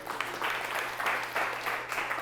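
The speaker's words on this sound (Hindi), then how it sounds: "क्यों ना जोर से ताली बजाएं।" A church congregation at a Palm Sunday service breaks into applause, the clapping swelling in several rhythmic waves over a low steady hum in the room.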